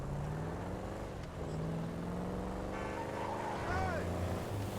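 An engine drones in GTA 5, holding a steady mid-level hum while the car drives, with a faint voice speaking over the motor noise.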